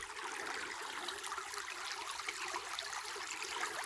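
Small woodland creek with water flowing over stones, a soft, steady trickling wash heard alone at low volume.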